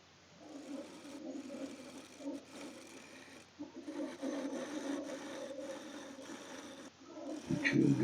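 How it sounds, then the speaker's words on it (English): Final scraping cuts on a wooden segmented bowl turning on a lathe, a steady close-up rubbing scrape that runs continuously for several seconds with brief pauses and a sharper burst at the end. "I'm doing some final scraping cuts on these pieces."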